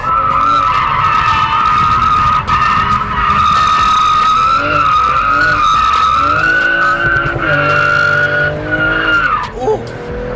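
Loud, sustained tire squeal from a BMW G22 M440i drifting, with engine roar rising and falling, continuous for about ten seconds before cutting off.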